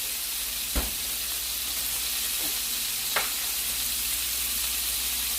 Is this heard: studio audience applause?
no